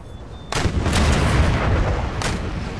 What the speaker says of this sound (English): Firing long range cannon.